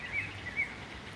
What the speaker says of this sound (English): Cardinal makes all kinds of different noises.